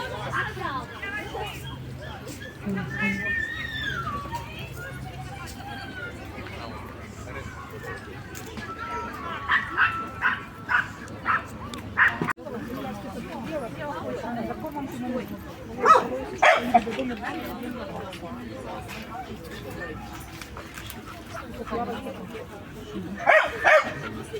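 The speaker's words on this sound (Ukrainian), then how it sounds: "собака гавкает" Dogs bark in short bursts amid the crowd babble of an outdoor dog show in Kyiv's Victory Park, with a few louder yaps close by and people chatting throughout.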